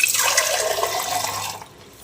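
Water pours steadily into a juicer jar while a banana juice is being made, a close splashing trickle that runs for about a second and a half, then stops, with no talk.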